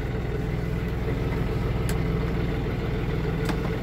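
An engine running for herbicide spraying in a field, heard as a steady low idle with a rhythmic pulsing throb and a couple of faint clicks.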